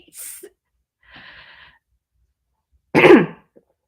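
A few soft breathy throat noises followed by one sharp, forceful throat-clearing burst, close and alone with no speech.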